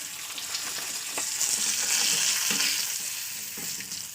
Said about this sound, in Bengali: তো চলুন মাছটা ভেজে তুলে নিই